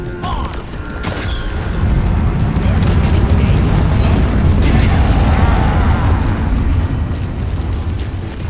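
A supply pod from Deep Rock Galactic drops with a heavy thunderous rumble that swells after the first second and roars loud and sustained, with clanking mechanical bursts layered through it.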